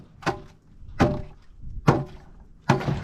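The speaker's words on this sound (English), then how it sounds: "we need to bust some of that ice out of there" Ice being busted out of a cattle water tank for bulls in winter, four separate heavy thunks spaced about a second apart, moderately close with quiet between blows.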